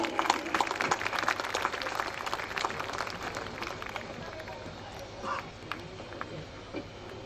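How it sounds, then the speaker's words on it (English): Audience applause at a graduation ceremony as degree holders' names are read out, a dense, sustained wash of clapping from a large crowd that stays strong and gradually thins toward the end. "A loud round of applause, everybody,"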